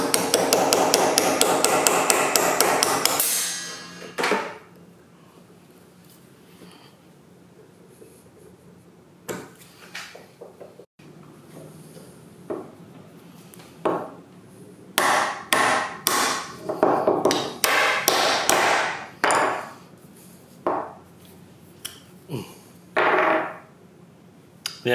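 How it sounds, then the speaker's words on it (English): Hammer blows knock a pin out of a Rockwell mill quill handle: a fast metallic rattle of taps at first, then a pause, then clusters of sharp, ringing strikes in an irregular rhythm. "I'm going to see if I can knock out that pin and then maybe clean up the weld."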